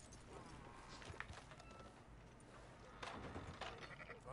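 Sheep bleat within the Red Dead Redemption 2 video game during a herding task, mixed with clip-clopping horse hooves and footsteps in a busy, continuous outdoor game soundscape.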